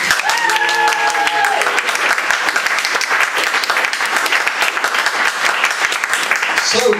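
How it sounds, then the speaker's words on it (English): Audience applause at a comedy-science night, crisp, lively clapping from a room full of people with a voice briefly audible near the start, continuing strongly to the end. "A round of applause for our new employee."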